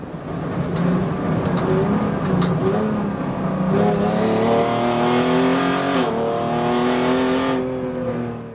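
A BMW 3-litre straight-six race car engine drones steadily nearby, its pitch climbing through the revs with a shift-like dip partway, loud and alone without talk.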